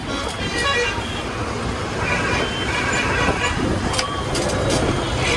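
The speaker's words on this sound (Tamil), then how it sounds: "பாலன்பூரில் ரொம்ப டிராஃபிக்குங்க." Dense road traffic in Palanpur, India rumbles continuously nearby, with engines droning and several short horn toots sounding over the noise; a voice is faintly present.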